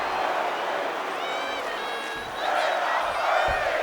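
A wrestling crowd roars and cheers at a live SCW show after a near-fall, steady broad noise with whoops and shouts rising near the end, while a commentator talks over it.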